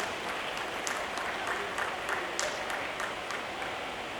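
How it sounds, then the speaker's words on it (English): Applause from a crowd at the launch event of the Mumbai International Motor Show 2017, a faint, distant wash of steady clapping that continues evenly for several seconds. "Can you please have huge round of applause for them?"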